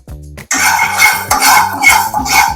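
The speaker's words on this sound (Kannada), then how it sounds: "ಇದಕ್ಕೆ 1 ಸ್ಪೂನ್ ಅಕ್ಕಿನ ಹಾಕೊಂಡು ಚೆನ್ನಾಗಿ ಘಮ ಬರೋವರೆಗೂ ಹುರ್ಕೋಬೇಕು" A spoonful of rice roasting in a hot pan for poppy seed kheer, with a spoon scraping and clinking against the metal steadily throughout after a brief quiet start.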